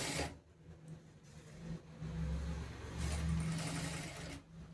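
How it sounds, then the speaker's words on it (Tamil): A sewing machine stitches straight-cut kameez fabric in a steady, close whirring run, its motor hum rising slightly partway through, with no talking. "இப்போ அந்த மார்க் பண்ண 1 இன்ச் வரைக்கும் நான் தைச்சிக்கிட்டு வரேன்."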